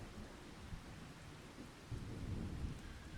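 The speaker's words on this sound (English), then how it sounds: "Still not seeing any bad weather, just rain." Rain falls in the Farming Simulator 25 game, a soft, steady hiss with low rumbling swells, faint and continuous.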